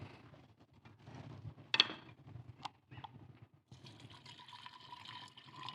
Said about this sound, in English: Put too much water in there.